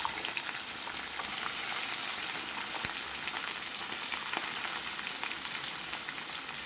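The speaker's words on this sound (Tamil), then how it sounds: "உருளைக்கிழங்கு தான் பொரிக்க போகிறோம்." Steady, dense sizzling of potatoes frying in hot oil, a continuous crackling hiss with occasional sharper pops, close and moderately loud.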